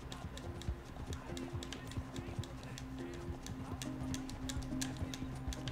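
Horse hooves pound in a steady, rhythmic clip-clop gallop in the Red Dead Online video game, continuous and fairly close under sharp ticking game noises, with no talk over them.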